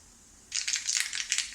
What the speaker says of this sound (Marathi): आपली राई छान तडतडली आहे